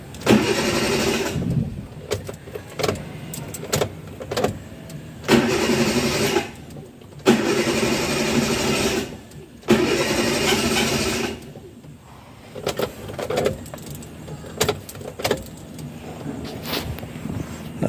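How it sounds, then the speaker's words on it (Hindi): Chevrolet Beat petrol car being cranked and started with the IAC valve wire unplugged, in bursts of engine cranking and revving broken by short pauses, close and moderately loud with some mechanical clatter. "अब ये गाड़ी स्टार्ट हो जाएगी आराम से"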